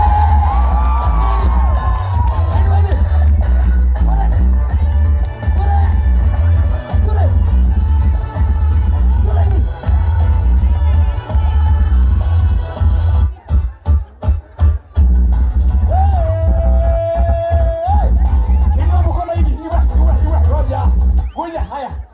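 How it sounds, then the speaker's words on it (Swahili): A large stadium crowd cheers and ululates at a rally, a loud continuous roar of voices with shrill trills and whoops, amplified speech and music carrying over the top throughout. "wapi shangwe na vigelegele yake"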